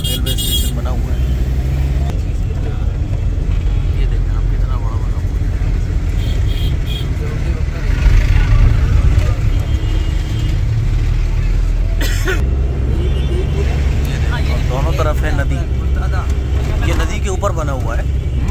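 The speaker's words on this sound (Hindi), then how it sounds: "यहाँ पे थोड़ा सा ट्रैफिक रहता है, देखिए ये सामने हावड़ा का ब्रिज है" Road traffic near Howrah Bridge in Kolkata: a loud, continuous rumble of cars and buses with passing engines and occasional horns, while someone talks over it the whole time.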